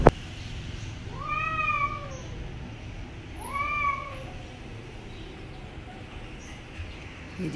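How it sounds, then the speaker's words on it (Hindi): Two drawn-out, wavering cat yowls from cats fighting early in the morning, each lasting about a second with a pause between, fairly close over a low background hum. "ये जी बिल्लियों की लड़ाई।"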